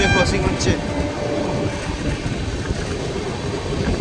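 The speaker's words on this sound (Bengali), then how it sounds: "226-11 চেন্নাই সেন্ট্রাল থেকে নিউ জলপাইগুড়ি SF এক্সপ্রেস।" The Chennai Central to New Jalpaiguri SF Express, train 22611, rushes past at Haridaspur, a heavy, steady roar of wheels and coaches close by, opening with a couple of sharp metallic clanks and high squeals before settling into continuous rumble.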